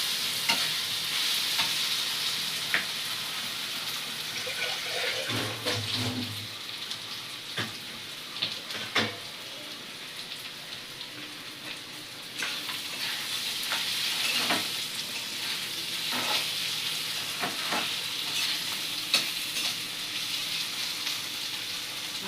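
Boiled vegetables for sukto fry in hot oil with a continuous rain-like sizzle, while a spatula stirs and scrapes against the pan in irregular clacks.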